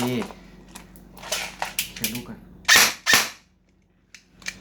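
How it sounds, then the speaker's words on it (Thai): A toy gun with a stiff spring firing: a couple of sharp, loud snapping shots in quick succession among smaller clicks and handling noises, with someone speaking nearby. "ปืนค่อนข้างแรง สปริงจะแข็งมาก"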